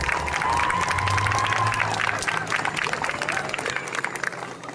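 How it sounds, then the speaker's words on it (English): Audience applause at a 2012 Gordon-Rushville homecoming queen coronation, steady dense clapping from a crowd filling the hall, with a faint voice and some cheering mixed in. "Let's give all these ladies a round of applause to recognize all of their accomplishments."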